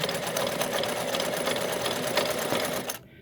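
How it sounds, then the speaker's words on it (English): A Kenmore 1750 sewing machine sews a feather stitch at a slowish pace, its needle mechanism whirring in a steady rapid chatter up close before stopping abruptly near the end. "gonna try the feather stitch again, see if my thread will avoid breaking. Go a little slower, it's a little less friction."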